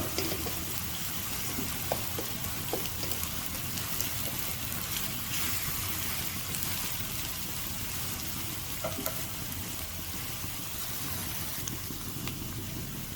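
Chopped onion for a black chickpea curry base sautés in a pan: a steady, close, even sizzle and crackle of frying that runs unbroken throughout, with no voices.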